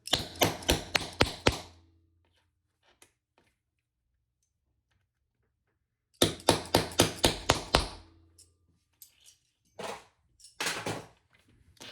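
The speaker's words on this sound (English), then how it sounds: "I'm going to be a little noise as I set my rivets" Rivets are hammered into eyeglass case pouches in two quick bursts of sharp metallic taps, each about six strikes, separated by a long silence, with a few scattered knocks afterward.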